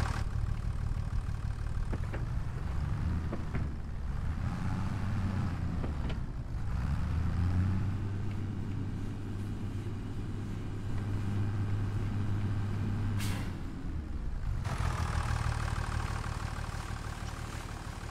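Tractor engine in a logging video game: a steady mid-to-low mechanical drone that holds an even pitch, shifting slightly partway through, with brief clunks and a sharp transient near the end, no speech over it.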